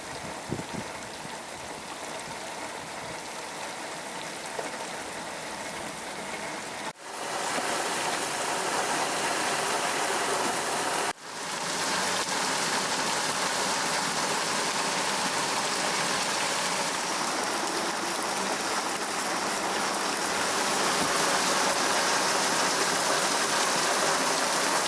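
Heavy rain pours steadily during a thunderstorm on a boat at anchor in the Mediterranean off Porto Heli, Greece, a continuous close hiss with a couple of brief abrupt breaks.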